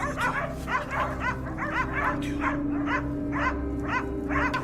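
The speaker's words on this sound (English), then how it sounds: "Our dogs were still full of energy, tracking and chasing boar scents." Hunting dogs bark steadily as they track and chase wild boar, the rapid yelping barks coming in quick bursts over a low engine-like hum from a hunting buggy.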